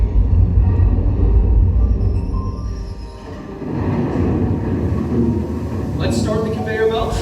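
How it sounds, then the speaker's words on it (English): A heavy mine ore train at a mine museum rumbles past close by with a deep, steady roar, and a brief metallic squeal or clatter near the end. "And here comes the ore train."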